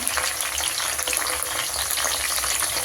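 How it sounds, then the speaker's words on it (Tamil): Green chillies frying in hot oil in a pan, a loud, close, continuous crackling sizzle with no pauses. "பச்சை மிளகா நல்லா பொரிஞ்சிருச்சு"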